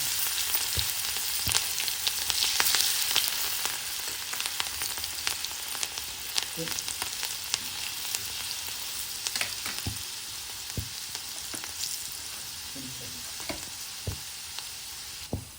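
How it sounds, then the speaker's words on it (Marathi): Chopped onion and green chillies sizzle steadily in hot oil, already crackling with mustard seeds and turmeric, for a garlic masala pav; a close, continuous fry hiss with scattered sharp pops and a few spoon clicks. "तेल तापलाय चांगला कडकडीत आता आपण कांदा टाकतो आहोत"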